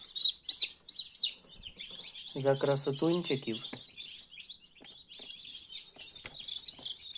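Newly hatched chicks peep in high, rapid bursts inside a full incubator at a poultry farm during a power outage, a dense chorus of near chirps heard under a voice.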